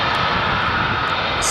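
A fighter jet powered by a Pratt & Whitney F135 engine roars loudly and continuously, a dense, close, rumbling jet blast.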